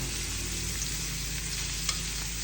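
Two or three bay leaves sizzle in hot oil as a vegetable curry begins, a dense, steady frying hiss with a faint clink near the end.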